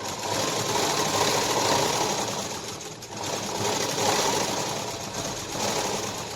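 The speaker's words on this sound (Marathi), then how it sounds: "आता आपल्याला पूर्ण शिलाई इथपर्यंत घेऊन टाकायची" A sewing machine runs steadily while stitching a sleeve, a continuous close whirring drone with a brief dip midway and no talking.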